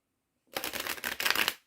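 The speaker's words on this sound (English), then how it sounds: "I'm going to do all the tarot shuffling on camera." A deck of tarot cards is shuffled once, a quick burst of riffling and flapping up close, with no talking.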